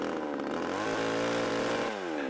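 Chainsaw engine running steadily at high revs while cutting a tree trunk, loud and close throughout, pitch shifting slightly as it bites, then briefly dropping near the end.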